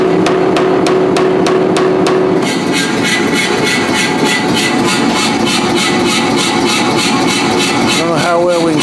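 An Anyang power hammer forges jaws for blacksmith combination tongs made from railroad spikes. It strikes in fast, regular, loud blows, then settles into a rapid continuous hammering over the machine's steady running noise.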